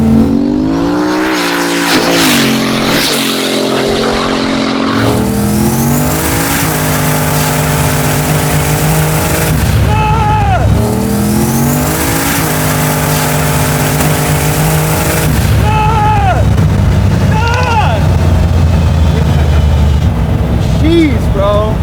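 A 1,500-horsepower big-turbo Volvo wagon pulls hard in second gear, its engine roaring loud and close with rising pitch through repeated surges and shifts, while people talk over it.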